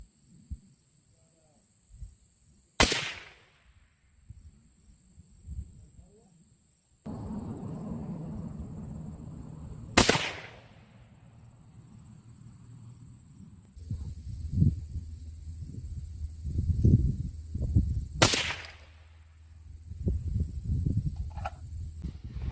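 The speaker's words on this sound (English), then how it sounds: "I took 3 shots, AR-10 308, got the Cole-Tac suppressor cover" Three suppressed shots from an AR-10 .308 rifle fitted with a Cole-Tac HTP suppressor cover, each a sharp crack spaced several seconds apart outdoors, with crickets or insects buzzing continuously and some rustling and handling noise in between.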